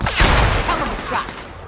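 Gunfire in the sci-fi video game The Outer Worlds: a loud, close burst of shots around the first half second, then a rumbling tail that decays, with no one talking over it.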